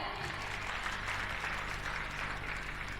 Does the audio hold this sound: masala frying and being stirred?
no